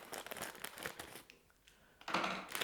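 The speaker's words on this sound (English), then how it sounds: "Good thing I have some scissors." A plastic candy bag, German gummy sweets from a grocery store, crinkles and rustles close up as scissors cut it open, with a short quieter pause before a louder burst of crackling at the end.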